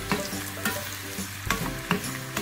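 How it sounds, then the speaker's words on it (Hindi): Close, loud sizzling of chopped garlic, ginger and green chillies frying in butter in a pan, broken by regular scraping and clanking strokes of a stirring spoon. "अब लहसुन, अदरक और हरी मिर्चें जो हमने चॉपर में चॉप किया वो शामिल करेंगे और फ्राई करेंगे"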